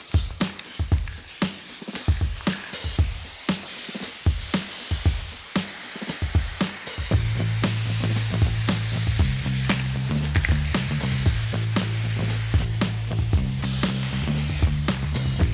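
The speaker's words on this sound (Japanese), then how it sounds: "スプレーで一度塗り終わったんですけども、ちょっとこれやばい。" Aerosol spray cans hiss in short rhythmic bursts, then in a long continuous spray, while white paint is sprayed onto the ceiling of an indoor photo studio; a steady tonal hum joins partway through.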